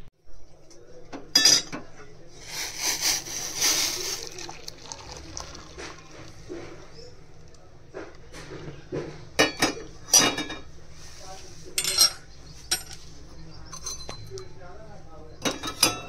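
Dishes and glassware clink and knock while tea is strained, sharp irregular chinks scattered over a low kitchen hum, some close and bright, others softer.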